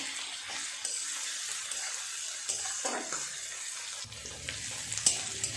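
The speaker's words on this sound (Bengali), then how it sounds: "পেঁয়াজটা কিছুটা ভাজা হয়েছে" Onions fry in a pan with a continuous close sizzling hiss, broken by occasional stirring scrapes and a soft clatter near the end.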